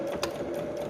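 A sewing machine runs a reverse stitch on fabric, giving a brief, steady mechanical whir with a faint ratcheting texture and one small tick partway through. It is close and moderately quiet, and no one speaks.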